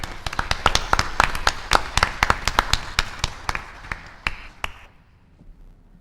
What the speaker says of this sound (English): if we can give another round of applause to them